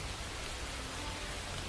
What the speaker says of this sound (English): The familiar melody fell into a soft rhythm with the tempo of the raindrops.